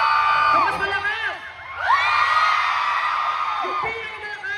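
A crowd shouts and cheers in loud bursts, voices whooping and yelling together, dipping briefly before swelling again into a long sustained roar.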